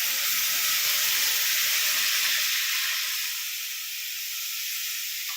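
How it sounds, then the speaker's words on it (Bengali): Cold water poured into a hot pan of chicken masala gives off a loud, steady hiss of steam and sizzle that fades slightly toward the end. "এবারে আমি একটু জল অ্যাড করে দেবো"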